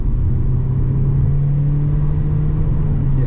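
An MG ZT-T CDTi diesel car pulling hard under acceleration toward its roughly 4,500 rpm redline, heard from inside as a loud, steady low engine drone and road rumble with no pause.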